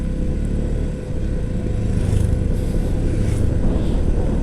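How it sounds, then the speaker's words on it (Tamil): A vehicle engine labours uphill on a high Ladakh mountain road toward the Umling La pass, a loud low drone that dips briefly and then pushes on with a strained, rising note. "வண்டி ஏறவே மாட்டேங்குது."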